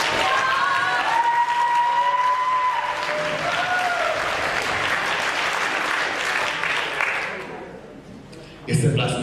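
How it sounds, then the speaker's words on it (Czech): Sustained applause from an audience at a travesti drag show in a cultural hall in Jirkov, with whoops and cheers riding over dense clapping that thins out near the end before a short burst of sound. "zatleskejte sami sobě"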